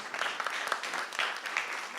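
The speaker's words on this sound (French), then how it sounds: "C'est toi qu'on applaudit." Applause from an audience at a French charity project presentation, a steady patter of many clapping hands, moderately loud and close, with no talk over it.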